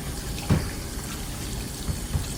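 Water runs steadily from a tap over an Alfonsino fish as it is rinsed clean in a sink, a soft low wash with a few faint splashes and knocks.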